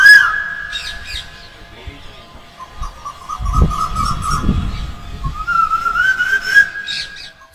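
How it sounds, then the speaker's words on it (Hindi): A koel calls in duet with a flute player, a sustained bright piping tone running through most of the stretch with chirpy squawks layered in, plus some low rustling noise in the middle. "कोयल और बांसुरी वादक के बीच गजब की जुगलबंदी है।"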